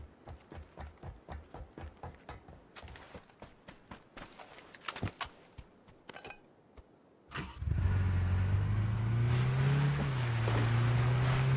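A car in PUBG starts up and drives off, a steady loud engine drone rising in pitch after a stretch of rhythmic clopping thuds, then running continuously to the end.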